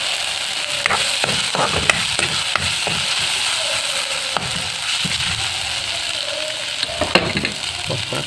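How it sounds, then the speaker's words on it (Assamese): Village-style broiler chicken masala fries in oil in a pan, a continuous close sizzle broken by frequent sharp crackles and pops, with no talking. "ভাজিব যেতিয়ালৈকে ইয়াৰ পৰা তেলটো বাহিৰ হৈ নাযায়"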